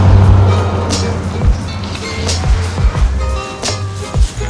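A UPS delivery truck rolls past on the street, its low engine rumble rising and falling with thumps and rattles, loud and close, heard from a bicycle.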